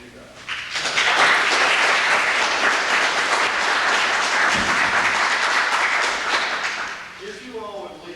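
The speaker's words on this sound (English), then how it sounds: "I'd like to have rounds of applause for you guys." An audience breaks into loud, sustained applause after a talk. The dense clapping swells quickly, holds steady for several seconds, then fades out.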